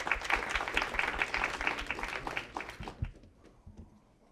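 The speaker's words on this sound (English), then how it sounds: "Can we give them a round of applause, please?" Audience members at a Brooklyn community board meeting clap in a moderate burst of applause lasting about three seconds, then thin out to a few scattered claps and room noise.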